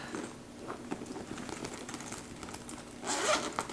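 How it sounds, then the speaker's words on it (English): A zipper on a woven vegan handbag with tasseled pulls is worked in short, quiet scratchy runs, ending in a louder, faster zip close by. "It's got the zippers here with the tassels, a zipper on the back"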